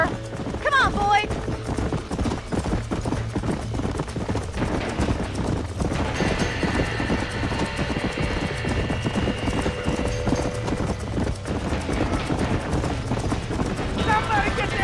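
Horses in Red Dead Redemption gallop with rapid clip-clop hoofbeats and occasional whinnies from a burning barn, while people shout over the commotion.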